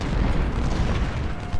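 Artillery on a Civil War battlefield in Ultimate General: Civil War rumbles as a dense, continuous low roar of distant cannon fire, with booms blending into one another and no talk.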